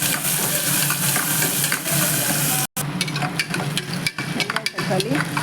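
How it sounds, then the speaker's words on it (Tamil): Onions fry in oil in a pan for a cauliflower kurma, a loud continuous crackling sizzle with stirring scrapes and a brief break midway, no voices. "வெங்காயத்தை போட்டு நல்லா எண்ணெயில் வதக்கி"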